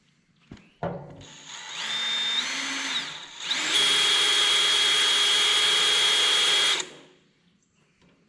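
A power drill with a quarter-inch bit whirs up briefly, pauses, then runs loud and steady for several seconds before winding down, close by, drilling a Kubota BX23S tractor loader bucket.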